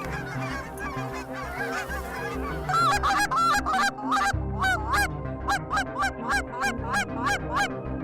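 Geese honk repeatedly overhead as they approach a large spread of decoys on a northern waterfowl hunt, a chorus of loud, overlapping calls growing denser and more rhythmic, with a low rumble underneath.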